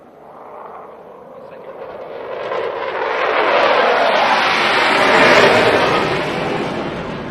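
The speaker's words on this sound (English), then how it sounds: "as the third fighter jet races towards the venue, its thunderous approach echoes unwavering resolve" A fighter jet flies past at a Pakistan Independence Day ceremony, a loud, broad roar that swells steadily over several seconds and then begins to fade.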